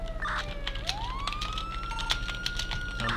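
A wailing electronic ambulance siren in GTA V on FiveM sweeps up and holds a high tone, with game sounds and clicks layered around it, loud and close.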